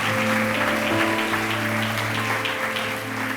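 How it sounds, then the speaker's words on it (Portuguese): A church congregation claps continuously, a dense sustained applause with some tonal music or voices faintly underneath. "Levanta a tua mão e aplauda o nome do Senhor Jesus"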